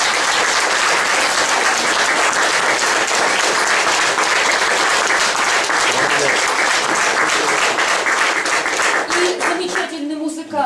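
An audience applauding a teacher after a concert, dense, sustained clapping from a large crowd filling the room at steady loudness for about ten seconds, then thinning out as a voice begins to speak.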